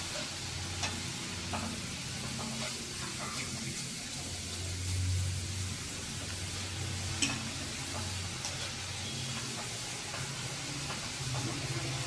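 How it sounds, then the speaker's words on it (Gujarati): Grated sweet potato shreds frying in hot oil for a chevdo snack with sweet potato and carrot, a steady close sizzle and bubbling hiss running through the whole stretch with faint stirring clatter and no talk. "સક્કરિયાના ખમણને બેથી ત્રણ મિનિટનો સમય લાગે છે તળાતા"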